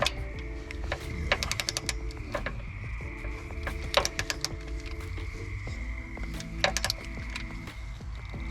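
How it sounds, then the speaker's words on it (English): A ratchet tightens the belt tensioner pulley bolts on a Kia Rio during timing belt work, giving quick bursts of close, fine clicking against a low steady background hum. "let's go ahead and get our ratchet and we'll torque those"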